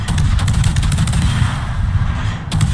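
Heavy naval gunfire from a battleship in World of Warships, a dense continuous rumble of booming salvos packed close together, loud and near throughout, with a brief pause near the end before another burst.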